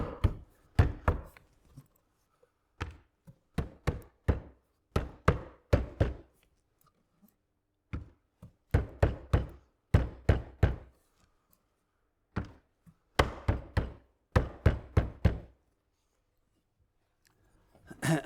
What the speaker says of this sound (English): we can tap the joints home with our block of wood and a hammer